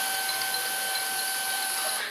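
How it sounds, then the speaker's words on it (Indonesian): Printer running steadily as it prints onto PCB transfer paper, a continuous mechanical whir with a high-pitched tone, close and even throughout, ending as the pass finishes. "Dan printer akan mengeprint kertas PCB."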